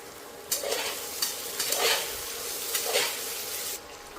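Finely chopped potatoes tossed into a pan of sautéed tomatoes, with several scraping stirs over a soft continuous frying sizzle that cuts off near the end.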